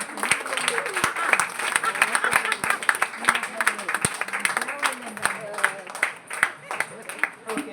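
At a 50th wedding anniversary golden jubilee celebration, an audience claps in a dense, continuous round of applause with crisp hand claps up close and people talking beneath it.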